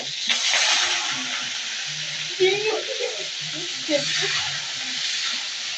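Prawns fry with chilli in a hot pan, a steady loud sizzle and hiss throughout, with occasional stirring scrapes and a voice talking over it.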